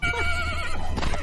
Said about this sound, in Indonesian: kuda itu melompat dan berlari ke sembarang arah